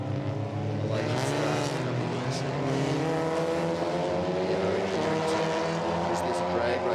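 TCR touring race cars at Zhuhai circuit roar past with rising and falling engine tones, a steady loud drone of several cars under a commentator's voice.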